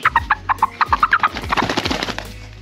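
A hen clucks close by in a rapid, rhythmic series of short sharp calls that blur into a denser flurry of clucks toward the end, with no talking.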